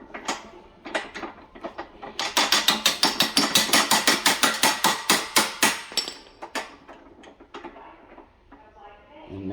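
Hammer taps driving a load wheel pin through a washer and wheel on a Wesco/Altra pallet jack, a rapid run of about twenty sharp metallic strikes in a steady rhythm, preceded and followed by scattered lighter knocks and clinks.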